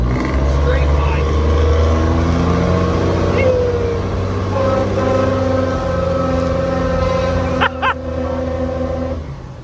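A Crown Victoria race car with a straight-pipe exhaust and a 5-inch downpipe drones loud and steady, with a brief sharp burst near the end, while people talk over it.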